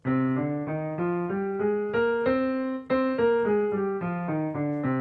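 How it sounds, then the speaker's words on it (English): A piano plays a minor scale up and back down, evenly paced single notes, clear and close with no talking. "So the natural minor scale will sound like this."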